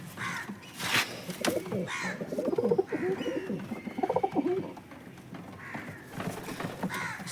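Pigeons in a loft coo and call repeatedly, with several birds overlapping in a lively, fairly close chorus of throaty bursts and no voices.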